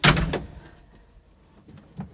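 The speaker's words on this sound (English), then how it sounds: "when we shut this door now" A door is pushed shut with a loud close and clunk at the start, followed by a quiet pause and a softer click or bump near the end, recorded close up indoors.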